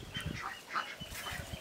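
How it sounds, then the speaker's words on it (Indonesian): Laying ducks quack in a farmyard, with faint, scattered nasal calls rising over low background noise and no clear speech. "Nah, ini kebetulan ada bebek."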